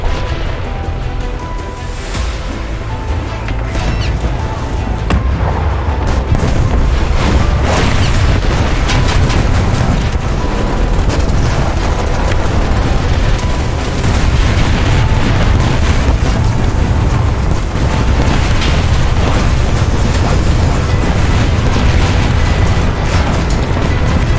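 Artillery strikes pound the battlefield in War Thunder naval combat, a dense, continuous roar of booming explosions and rumbling blasts, loud and overlapping throughout with no pause.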